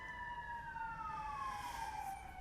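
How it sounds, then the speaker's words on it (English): Faint emergency vehicle sirens wail in the distance, their steady tones sliding slowly downward for about two and a half seconds with no talk over them. "8:14 a.m. sirens already."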